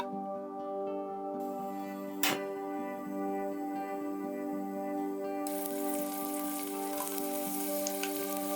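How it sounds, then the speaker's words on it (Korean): Garlic and green onion sauté in olive oil in a pan, a steady close sizzle and crackle that runs throughout and brightens toward the end, with one sharp tap partway through and no talk. "팬 위에 올리브 오일을 두르고 마늘과 파의 향이 올라오도록 볶아줍니다"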